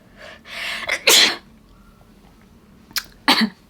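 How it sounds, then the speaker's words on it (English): Two sharp sneezes, one after a wind-up near the start and another near the end, loud and close, with quiet in between. "I'm gonna sneeze."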